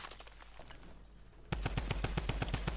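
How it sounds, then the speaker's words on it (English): Mythic drum gun firing in the video game Fortnite, a fast, evenly spaced stream of loud shots starting abruptly after quieter distant firing, close and continuous with no talking. "drum gun is very good at close range and it's decent at medium"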